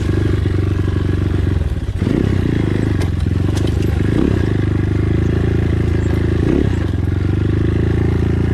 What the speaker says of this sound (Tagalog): madami motor dito.